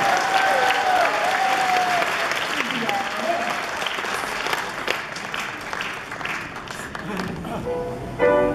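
A concert audience gives sustained, loud applause for a child singer performing a Tatar song, steady clapping filling the whole stretch with faint voices and cheers mixed in.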